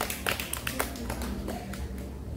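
A class of primary school pupils claps for a classmate after a floor gymnastics routine, a short burst of fairly close, uneven clapping with a few sharper individual claps standing out.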